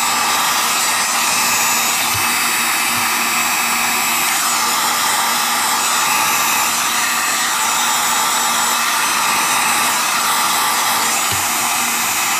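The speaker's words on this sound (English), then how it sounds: "You don't ever want to hold that solid on because it'll glaze over your Kydex if you heat it too fast." A heat gun blows a steady, loud roar of hot air onto a Kydex knife sheath, running continuously without pause and alone, with only faint incidental clicks.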